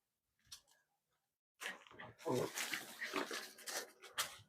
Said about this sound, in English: I gotta get this dog inside.